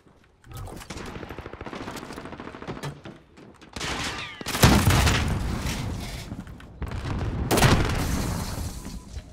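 FAL rifle gunfire in a shooter game: rapid bursts of close, loud shots crackle over a busy battle backdrop, with heavier booming reports and sustained firing building toward the end.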